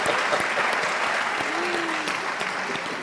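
Audience applause at a presidential press conference in Kinshasa, South Africa and DR Congo leaders present, a steady dense wash of many hands clapping throughout, moderately loud and fairly even.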